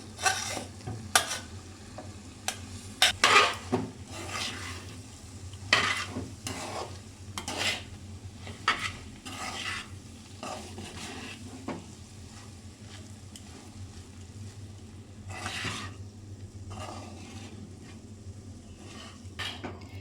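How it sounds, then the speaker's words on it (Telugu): Cooked rice being mixed into a cooking pan, with frequent clattering metal scrapes and knocks of a spoon against the pan over a low steady hum and faint sizzle, close and busy, no talking. "Last and final touch rice వేసుకొని కలిపేసుకోవాలి. అంతే, బాగా మిక్స్ చేసుకోవాలి"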